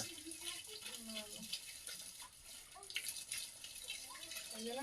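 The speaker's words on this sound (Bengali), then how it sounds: "আগে গরম জল পড়ছে কিনা দেখো" Water running from a garden tap outdoors, a soft steady splashing stream with faint trickles, quiet and somewhat distant, with a voice faintly present.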